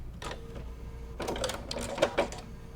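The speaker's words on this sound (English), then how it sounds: "I'm just going to come in with a nice little straight stitch at the end" Sewing machine running a short straight stitch on a fusible shadow applique quilt block: brief, quiet bursts of rapid needle clatter starting and stopping, with a soft hum between them.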